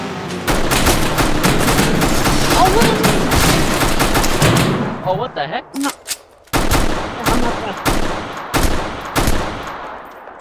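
An AR rifle firing in a video game, rapid loud bursts of automatic gunfire that break off briefly and then resume as scattered single shots, with players talking over it.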